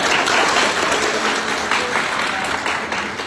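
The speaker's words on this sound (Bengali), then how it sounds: "ওকে একটা জোরে হাত তালি দাও।" An audience in a coaching class breaks into loud, dense applause, a sustained wash of clapping hands that stays strong for over three seconds before easing slightly at the end.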